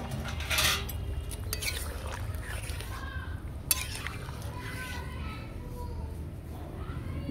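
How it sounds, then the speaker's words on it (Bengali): A cooking pot lid comes off a simmering Bengali mutton curry with potatoes and papaya, giving a short metallic clink early on, then soft clatter of utensils and low kitchen noise, with voices faint in the background. "আমি ঢাকা চাপা খুলব।"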